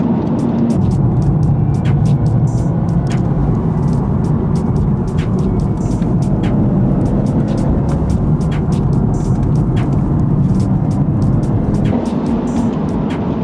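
A BMW M140i with stock exhaust and back box drives steadily, its engine drone and road rumble constant and fairly loud from inside the cabin, with faint ticks and clicks scattered throughout.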